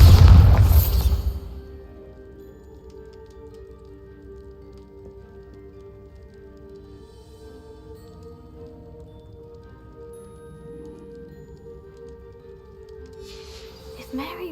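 Bombarda spell explosion in Hogwarts Legacy, a single loud low boom at the very start that quickly fades into a long, quiet tonal ambient hum.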